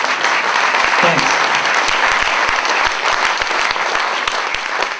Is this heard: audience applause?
yes